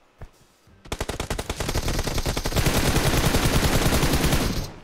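Automatic gunfire in the video game PUBG: after a lone shot, a long sustained burst of rapid, loud machine-gun fire rattles on continuously for several seconds.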